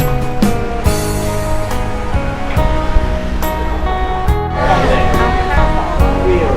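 Sea surf washes steadily against the shore beside a seaside restaurant in Si Racha near Koh Loy, a continuous loud rush mixed with a steady tonal hum and occasional clatter.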